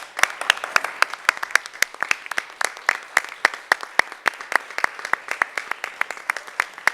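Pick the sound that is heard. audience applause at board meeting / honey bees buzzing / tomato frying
audience applause at board meeting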